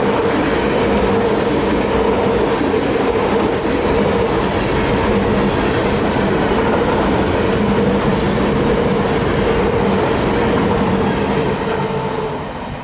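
A train rumbles loudly past, close by, with continuous clickety-clack of wheels on rails, easing slightly at the very end.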